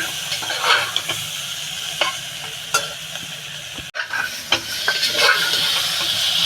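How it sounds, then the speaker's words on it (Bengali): Fish curry with green tomato and potato is stir-fried in a pan: a steady close sizzle runs throughout, broken by scraping stirs and occasional knocks of the utensil against the pan. "এবার একটু ভালো করে কষিয়ে নেব তারপরে আমি জল দিয়ে দেবো"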